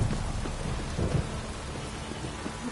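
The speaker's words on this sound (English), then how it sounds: "This downpour's a bastard, it is." Heavy rain pours steadily with low rumbles of thunder rolling underneath, dense and continuous throughout, in the video game The Witcher 3: Wild Hunt.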